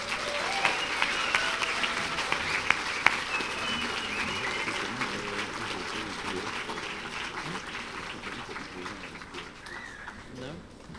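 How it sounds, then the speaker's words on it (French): A banquet hall full of guests breaks into sustained applause, dense and steady clapping mixed with crowd murmur throughout, fairly close and loud. "Donc, les applaudissements."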